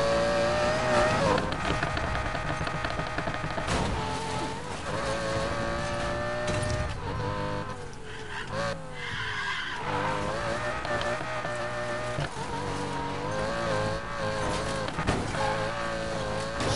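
Engine roar and repeated tire squeals from a bright orange Lamborghini racing in the Need for Speed video game, loud and continuous with shifting revs throughout.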